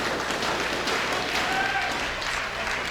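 Wrestling crowd in a Ring of Honor arena cheers and applauds steadily for Jay White during a match against Christopher Daniels, a dense wash of clapping and crowd noise.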